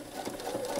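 A sewing machine runs steadily, stitching elastic onto fabric with a zigzag stitch, a soft continuous mechanical whir heard close up with no talk.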